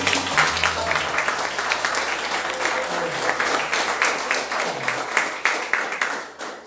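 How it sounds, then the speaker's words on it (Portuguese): Congregation applauding in a church service, sustained dense clapping from a crowd with a low sustained tone underneath, steady throughout and tapering off at the end. "Uma salva de palmas para Deus."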